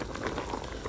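Vegetable soup boils steadily in a pot, giving a dense, continuous bubbling and popping that stays close and even throughout, with no voices.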